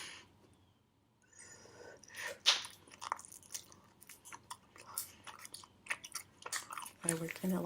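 Gum being chewed close to the microphone in a soft-spoken ASMR setting, with moist, crackly smacks and clicks after a quiet start, at a steady but uneven pace.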